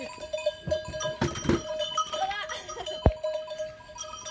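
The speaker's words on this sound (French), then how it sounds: "Oh, non, Il met la cloche. C'est Vigo, ça mouton, hein" Sheep with a bell, heard out in a farm pen, giving light irregular clanks over several seconds. One sharper knock stands out, and faint voices and low bleat-like sounds come and go around it.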